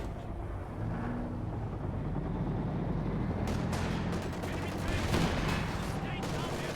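Units trading small-arms fire in a Company of Heroes 2 battle, with sniper shots and tank fire among them: scattered sharp cracks and bursts over a rumbling engine bed, thickening into rapid volleys in the second half.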